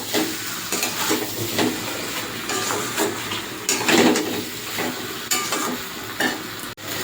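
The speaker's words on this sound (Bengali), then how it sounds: "সামান্য একটু চিনি দিয়ে দেবো, একটু কষিয়ে নেবো এটা।" Rice and potatoes with a pinch of sugar are stir-fried in a hot pan, giving continuous sizzling with repeated scraping strokes of the spatula and occasional louder clatters, heard close up with no talking.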